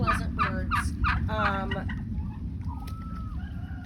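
Turkeys gobble in a quick rattling burst, nearby and loud, followed by softer clucks and calls over a low background rumble.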